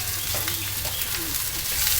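Onion, green chili, garlic and curry leaves sizzling in hot oil in a pan, a steady, even crackle and hiss that stays at one level throughout, close by and with no speech.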